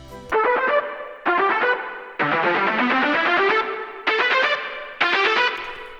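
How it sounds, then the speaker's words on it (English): An electronic dance track's lead synth group, fed through a filter and reverb effect change, plays five bright distorted phrases with chiming echoing tails, each loud burst separated by short gaps, no voices present. "I have this whole effect change here on the lead group that is activated here with a filter and a Q reverb"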